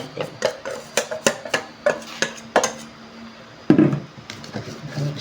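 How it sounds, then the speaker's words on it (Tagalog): Beaten egg being stirred into flour batter for puto, a string of sharp, rhythmic utensil clicks against a bowl at close range, with a louder knock near the end. "Saka natin ilalagay ang binating itlog. Ayan. Ihalo natin."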